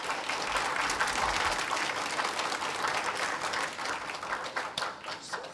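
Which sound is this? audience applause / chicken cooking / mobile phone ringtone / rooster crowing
audience applause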